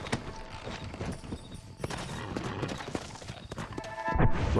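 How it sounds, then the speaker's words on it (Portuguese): A horse in the video game Red Dead Redemption, just mounted by the rider, clip-clops along in steady rhythmic hoofbeats, close and fairly quiet, with a brief whinny and a heavier thump near the end. "Vou montar aqui no cavalo"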